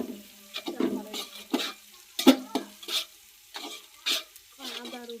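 A spoon stirs and scrapes through a pot of oil in a home kitchen, producing intermittent sizzling bursts and clanks in an irregular rhythm, close and moderately loud, with no voices.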